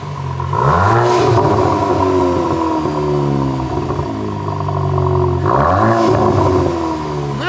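VW Golf 8.5 GTI engine revving hard, two rising surges that bounce off the soft rev limiter, loud and close with a rumbling, clattering exhaust note.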